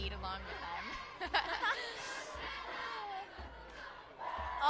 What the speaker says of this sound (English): Cheerleaders have got the crowd engaged in one of our signature Raider cheers.